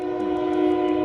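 Train whistle from a train passing through Seattle, a steady sustained horn tone held loud and unbroken throughout, with no talking.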